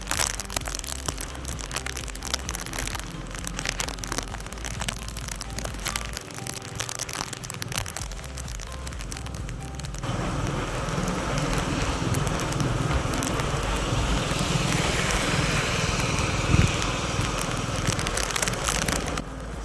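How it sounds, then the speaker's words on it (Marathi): Heavy monsoon rain recorded on a motorcycle ride near Karnala bird sanctuary, a dense steady roar of rainfall and wind noise that grows fuller and louder midway, with no talking. "धुवाधार पाऊस भेटलेला आहे कर्नाळामध्ये."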